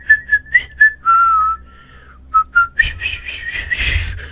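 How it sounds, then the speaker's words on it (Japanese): A recorder flute skin in the Among Us video game toots several quick short notes, then holds a long gliding tone, followed by a few more notes before a louder burst of game noise. "お、笛だ。 笛の音色が。"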